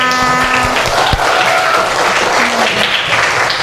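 Loud, dense applause from a class of children clapping continuously, close by, with a faint voice briefly underneath.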